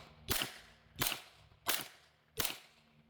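Four suppressed shots from a B&T APC9K SD-2 with 115-grain rounds fired into sand, evenly spaced about two-thirds of a second apart, each a sharp muffled crack with a short tail, captured on a distant camera microphone.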